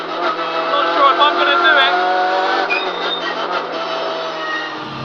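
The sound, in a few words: Hyundai i30 N race car driving on track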